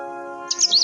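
A fat blue bird in the Book of Unwritten Tales 2 video game gives a quick bright chirp. It comes in just after a sustained tonal chime and is followed by a short trill of tweets.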